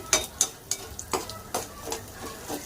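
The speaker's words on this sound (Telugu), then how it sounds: "ఫ్రై అవుతున్నాయి కదా ఫ్రెండ్స్" Ivy gourd pieces fry over a medium flame while a spoon stirs them in the pan, sharp scraping strokes repeating over a soft sizzle, close and distinct.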